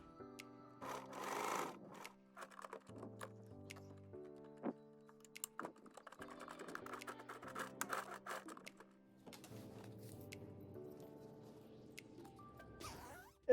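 A sewing machine runs in short, stop-start stitching bursts while a zipper is sewn into a jacket, quiet and close, with a soft clack at the end and no talking.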